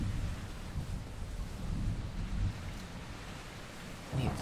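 Rain and rolling thunder during a Minecraft thunderstorm, a continuous hiss of rainfall over swelling low rumbles, with a fresh burst of thunder near the end.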